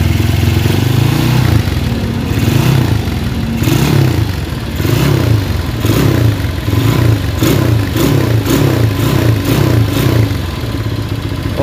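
A motorcycle engine, a GL model with a fault, is revved repeatedly from idle in loud, close, rhythmic surges, with mechanical clatter between the throttle blips and no speech.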